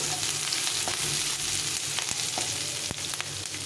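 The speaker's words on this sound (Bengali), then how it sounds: "পেঁয়াজটাকে একটু নরম নরম করে ভেজে নিতে হবে" Chopped onion fries in a pan, softening in the oil with a loud, continuous sizzle broken by occasional crackles and stirring, with no talking.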